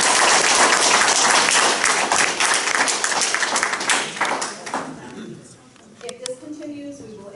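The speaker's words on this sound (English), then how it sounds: "We have a right to clap our hands" An audience at a small-town public hearing on a wind turbine law claps loudly in a dense burst that gradually thins into scattered claps and fades, with voices emerging near the end.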